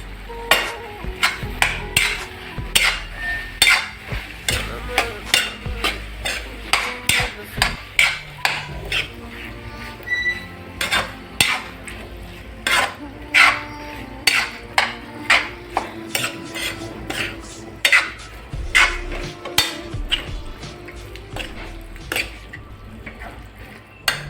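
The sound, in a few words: stirring soaked soybean chunks in a pan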